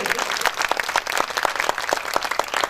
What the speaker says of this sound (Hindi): आप लोग जोरदार ताली बजाकर के स्वागत करें